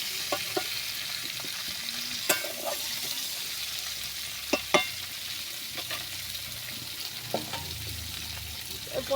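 Pointed gourd (potol) fries in oil in a wok with a steady, moderate sizzle broken by a few sharp pops and stirring clinks, no voices heard.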